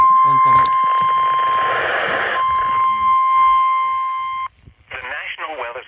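A NOAA weather radio alert from the National Weather Service in Boston sounds a loud, steady two-tone attention signal over hiss for about four seconds, then cuts off abruptly as a voice begins speaking.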